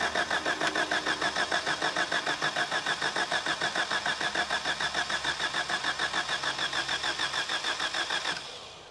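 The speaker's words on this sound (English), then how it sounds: "This should fire up now as long as it's still pulling fuel from that tank." Old truck engine fitted to a large homemade go-kart, cranking over cold with a fast, even rhythmic chugging from the starter, held for about eight seconds, then cutting off abruptly without catching.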